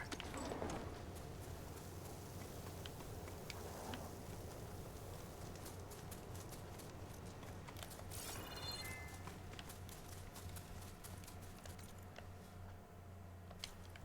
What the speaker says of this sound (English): Can I call a horse?